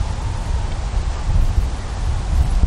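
Steady gusting wind buffeting the microphone outdoors at a pitching field, a dense low rumble with rustling on top, loud and continuous without a break.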